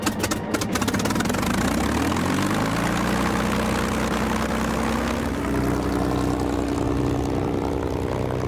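A propeller engine of an unlimited warbird aircraft roars loudly and steadily throughout, its pitch sliding upward early on before settling into a sustained, throbbing drone, with no talking.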